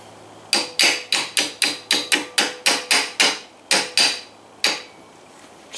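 A hammer strikes a punch to drive the trigger pin on an Aero Precision rifle build, about fourteen loud, sharp metallic taps in a quick steady rhythm that slows near the end.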